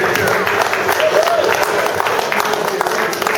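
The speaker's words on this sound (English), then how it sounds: "Let's start clapping." A crowd at a holiday business and tech mixer claps steadily amid loud background chatter and voices, the applause dense and sustained throughout.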